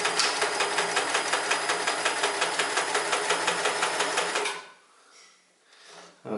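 A Sears Kenmore 158 series sewing machine runs a zigzag stitch, a loud rapid rhythmic clatter at close range that stops abruptly partway through and leaves quiet handling noises.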